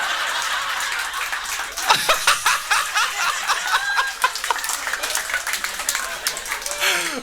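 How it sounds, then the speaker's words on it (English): At a comedy show, an audience breaks into laughter and scattered clapping after a joke, chuckles and applause swelling together and running on at moderate loudness. "That's crazy that you're applauding."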